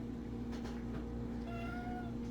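A cat meows a few times, the longer cries drawn out and wavering, over a steady low hum in the room.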